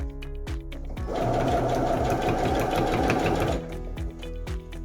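Stitching bias binding onto a placemat, a sewing machine starts after a few isolated clicks and runs in a steady, fast mechanical whir for about three seconds, then stops into a couple of soft knocks.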